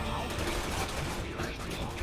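Rapid gunfire from Resident Evil 6 rattles in a dense, continuous burst of shots with a game soundscape underneath.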